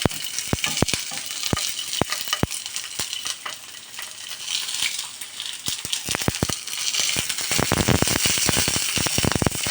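Oil sizzles and spits steadily as hot peppers fry in a pan close by, with sharp crackling pops scattered throughout and growing busier toward the end.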